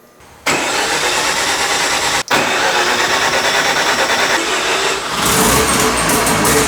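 A Mazda RX-7 rotary engine cranks and fires, then runs loud and steady at a buzzy idle with a brief cut near the start, alone with no talk.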